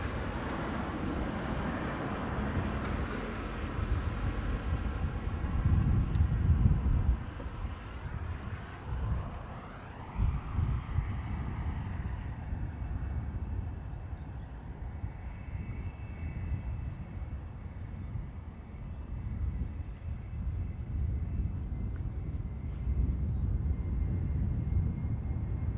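A British Airways passenger jet, BA flight 431 bound for London Heathrow, departing Amsterdam Schiphol Airport. Its broad engine roar rises and then fades over about half a minute, with wind noise and a distant feel.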